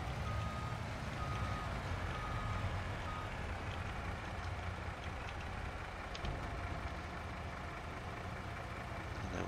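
Truck reversing beeps in the video game Farming Simulator 22: faint repeating tones under a loud, steady engine rumble that runs the whole time.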